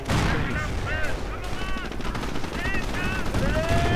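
A .50 caliber machine gun firing in a World War II strategy video game, rapid bursts under a dense battle din with whistling shells and background explosions, loud and continuous throughout.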